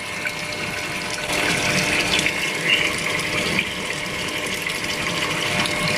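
Water pours steadily into a Samsung washing machine tub through the inlet valve, which fails to shut off and keeps filling past the halfway mark. The rushing flow is close, loud and unbroken, with no voices.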